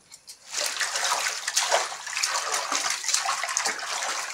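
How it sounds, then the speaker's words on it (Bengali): Kitchen tap water running steadily over freshly picked chillies being rinsed by hand, a continuous broadband splashing hiss with small sloshing variations, close and fairly loud, no talking. "ধুয়ে নিচ্ছি ভালো করে"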